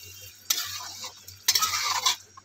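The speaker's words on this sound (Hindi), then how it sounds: "और आप देखिए इसमें राजमा डालते हैं, इसलिए कि एक मिनट तक इसको भी भूनेंगे कि इसमें मसाला एब्जर्ब हो जाए।" Kidney beans (rajma) roast with masala and softened tomato in a pan, a quiet background hum broken by two bursts of sizzling and scraping as the mixture is stirred.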